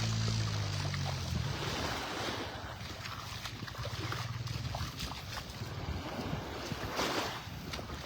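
Ocean surf rolls onto Vanderbilt Beach in Naples, Florida, a steady broadband wash with some wind, fairly soft and continuous, with no one talking.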